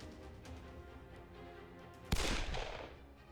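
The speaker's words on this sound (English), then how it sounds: "Sakamoto quickly reached for his gun and he pulled the trigger." A single sharp gunshot effect from the Hakuoki video game bursts loudly over steady background music, then its ringing tail fades over the next second.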